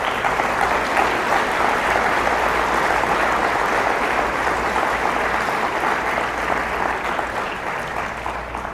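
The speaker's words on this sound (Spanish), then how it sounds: "Démosle ese aplauso al Señor." A church congregation applauds together during a Sunday worship service, a dense, steady wash of many hands clapping that stays loud and even for the whole stretch with no voices on top.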